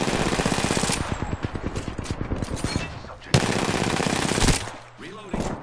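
Video game gunfire from a PS4 shooter: a rapid, rhythmic burst of automatic fire, then heavier, louder shots and sharp cracks. The fire is close and dense, with brief pauses between volleys.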